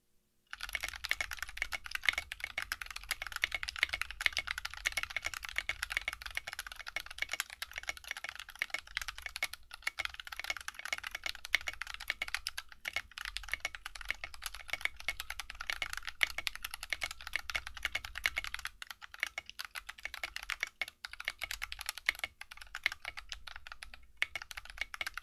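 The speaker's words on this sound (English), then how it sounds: "We're going to lower the mic down so you can hear the keyboard." Steady, fast typing on a keyboard with lubed Cherry MX Clear or Everglide Oreo switches, a continuous stream of close clacks and key thocks without pause, recorded near the board.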